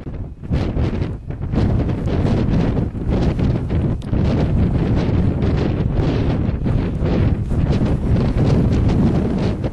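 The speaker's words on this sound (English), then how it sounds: "As you can hear, it's blowing a gale." Gale-force wind at the top of Gowbarrow in the Lake District, loud buffeting gusts roaring across the microphone in heavy waves with brief lulls, steady and close throughout.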